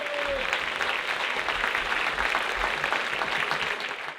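An audience applauds after a Korean traditional music performance by master singer Kim Il-gu and his drummer, a dense, steady wall of clapping that fades slightly at the end.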